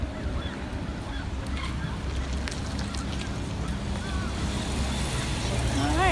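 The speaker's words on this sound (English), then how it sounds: "Oh, birds! Birds!" Geese calling outdoors, several honking calls scattered over steady wind and ambient noise, growing louder and closer toward the end.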